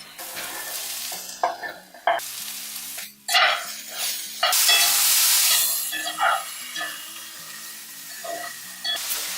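Vegetables fry and sizzle in a pan for an omelet, a steady hiss broken by stirring scrapes and louder bursts of crackle as more vegetables go in, close and continuous.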